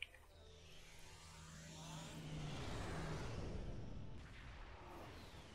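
Slipstream warp drive engaging in the game Star Trek Online: a deep rising rush that swells into a loud, broad roaring whoosh, holds for a few seconds, then eases off, with no voices.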